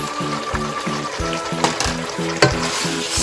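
Alberta beef frying in a pan with kreung paste gives a soft steady sizzle, with a couple of sharper clinks from stirring and a low, regular thumping underneath, close and moderately loud.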